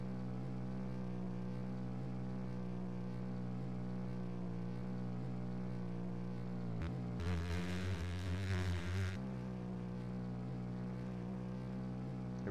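A motocross bike engine in the Roblox MX Bikes game drones steadily and evenly, then briefly rises and roughens for a couple of seconds before settling back to its steady tone.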